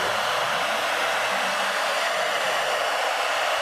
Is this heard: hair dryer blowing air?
yes